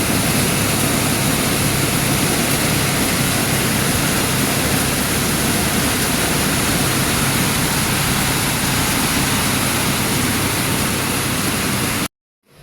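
Dense, loud, steady roar of heavy rainfall pours without letup for several seconds, then cuts off abruptly.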